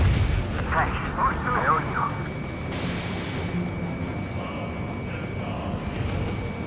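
A missile launches with a whooshing rush partway through, over a constant roar of jet engines in an aerial combat mission of Ace Combat 7.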